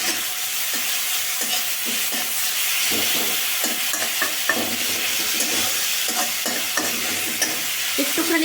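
Spice paste with turmeric frying in a pan for prawn pulao and being stirred, a continuous close sizzle with frequent short scrapes and clicks of the spoon against the pan.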